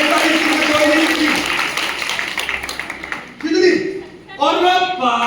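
An audience claps together on command at a motivational team gathering, a dense burst of applause under a loud speaker's voice, fading and then returning in short bursts.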